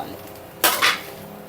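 A metal utensil clinks twice against a pan while mixing aloo carrot rice, two short close scraping knocks over quiet background noise.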